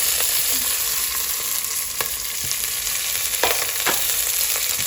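Garlic, ginger and chili fry in hot oil for a chicken curry, giving a steady, busy sizzle with occasional stirring scrapes and pops, close up, with no talking.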